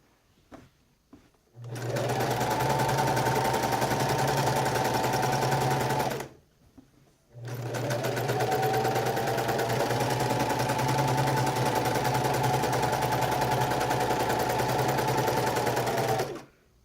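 A domestic sewing machine free-motion quilting a paisley design runs in two long, loud, steady whirring stretches, close up, with a brief stop between them and no talk.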